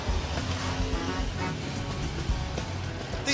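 A Harley-Davidson Crossbones cruiser motorcycle rides through the Hollywood Hills, a steady engine rumble blended with heavy rushing wind noise throughout.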